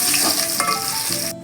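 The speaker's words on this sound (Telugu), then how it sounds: "అదే ఆయిల్లో ఫస్ట్ వెల్లుల్లి వేయించుకోవాలి." Garlic frying in the same oil just used for dry fish, a loud, close, dense sizzle with stirring scrapes, running steadily and cutting off abruptly at the end.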